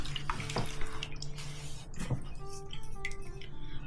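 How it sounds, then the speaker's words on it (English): Water splashes and trickles as steel rifle parts from a Steyr M95 Mannlicher carbine are rinsed, with soft drips and light clinks, fairly quiet and close. "let's do one more rinse"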